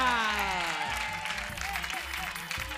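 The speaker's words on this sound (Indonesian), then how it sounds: "langsung aja tepuk tangan yang meriah buat Raja" A studio audience claps in a lively burst for a performer named Raja, the applause running under a speaking voice and background music.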